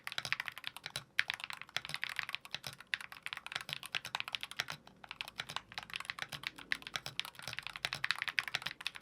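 Typing on a Varmilo Muse65 HE magnetic keyboard makes a steady, fast stream of soft keystroke clacks with occasional brief pauses, close up and with no voices.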